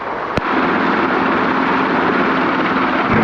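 A helicopter at Long Beach gives a loud, steady rotor and turbine roar that fills the whole stretch, with one sharp click near the start and no talk over it.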